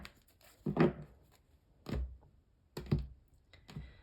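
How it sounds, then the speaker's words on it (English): A tarot card deck is shuffled in several quick bursts of riffling and tapping, about four separate shuffles spaced roughly a second apart, close and clear with no talk. "2 more shuffles and then we'll cut up the deck and get into your reading"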